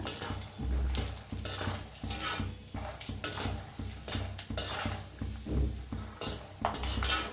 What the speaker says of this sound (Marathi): आता त्याच तेलात शेंगदाणे तळून घेऊया